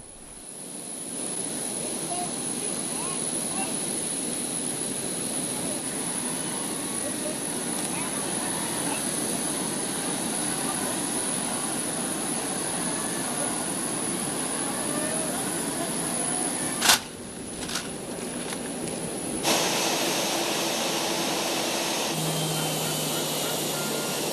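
A royal jet aircraft's engines whine and roar steadily at a distance for a long stretch, then the sound shifts abruptly as the recording cuts to quieter scenes.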